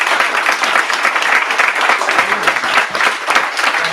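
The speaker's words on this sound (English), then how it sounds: "I'll invite one final round of applause" A conference audience gives a loud, dense round of applause that carries on evenly for several seconds with no talking over it.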